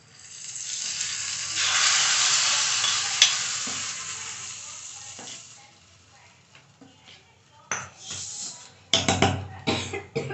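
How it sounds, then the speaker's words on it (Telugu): An ingredient is stirred into chutney, giving a long hissing, scraping swirl that fades out, followed by scattered sharp clatters and knocks toward the end, close up. "ఇదైతే చట్నీలో వేసి కలిపేద్దాం"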